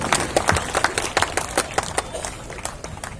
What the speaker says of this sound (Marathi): जोरदार टाळ्या व्हायला पाहिजे आपल्या सर्वांच्या.